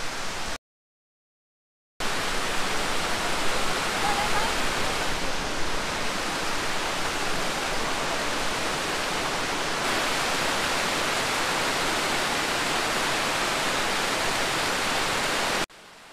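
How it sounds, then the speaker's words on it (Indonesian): Salopa waterfall, a 25-meter fall over 12 tiers with small pools, gives a steady, dense rush of falling water, loud and constant, after a brief silent gap at the start, with no voices. "kita sudah sampai di air terjun Salopa"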